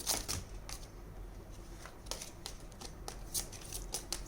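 Tarot cards shuffled close by in quick riffling bursts, crisp papery flutters and taps following one another without pause.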